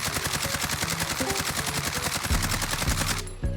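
Rapid sustained automatic fire from an AMAX assault rifle in Warzone, a dense unbroken stream of loud shots that cuts off abruptly near the end.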